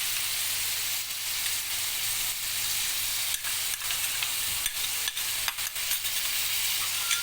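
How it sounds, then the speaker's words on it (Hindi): Crushed garlic hits a hot pan with meat for mutton Shinwari, giving a steady, close sizzle with scattered crackles and pops and no voices. "लहसुन ऐड कर रहा हूँ"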